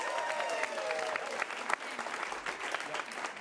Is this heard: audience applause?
yes